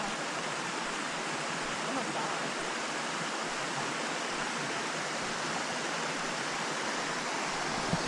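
A waterfall on a creek rushes in a steady, dense roar that stays loud and unbroken throughout, with no voices over it.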